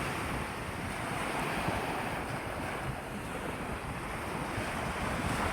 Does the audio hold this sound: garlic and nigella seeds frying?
no